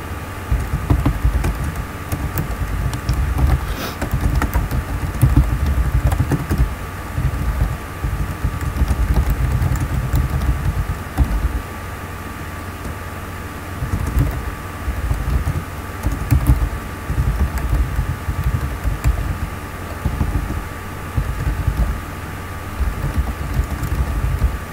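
Someone types a message on a computer keyboard, with steady soft key clicks running continuously over a low background hum and no voices.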